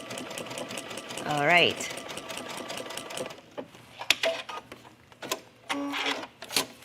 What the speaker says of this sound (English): I'm sure you don't need to watch me sew 3 buttonholes